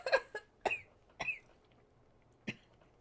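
Several sharp coughs, three in quick succession and a fourth after a short pause, fairly close with quiet in between.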